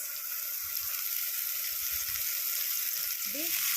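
Green beans dropped into hot oil already flavoured with dried red chillies and five-spice, giving a steady broad sizzle that holds evenly throughout, with faint stirring and a voice speaking over the frying.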